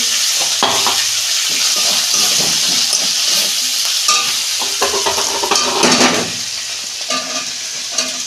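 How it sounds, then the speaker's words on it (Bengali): Mixed vegetables and spring onions frying together in a pan for a prawn curry: loud sizzling with busy, irregular scraping and stirring of a utensil against the pan, clinking now and then, fairly close. "সব একসঙ্গে দিয়ে আমি ভাজবো"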